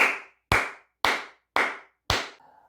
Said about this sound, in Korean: 박수 한번 크게 치고 가도록 하겠습니다